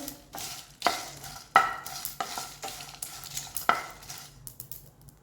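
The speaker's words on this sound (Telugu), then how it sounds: "అన్నీ కూడా ఆయిల్ వేయకుండా సిమ్ మీద పెట్టుకొని లైట్గా ఫ్రై చేసుకోవాలి" Coriander seeds and cumin dry-roasting in a pan over low heat without oil, stirred with a utensil in repeated scraping, rattling strokes that scuff against the metal, fairly close and moderately quiet, with no voices.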